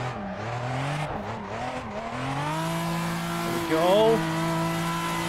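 A Toyota Supra engine revs steadily while drifting in Assetto Corsa. The tone rises and falls with the throttle, and a brief squeal near the end. Someone talks over it.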